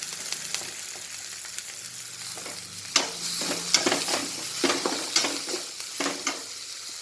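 Masala with coriander leaves fries in a pan and is stirred, a continuous close sizzle broken by repeated scraping strokes and soft clatters at an irregular pace, with no talking.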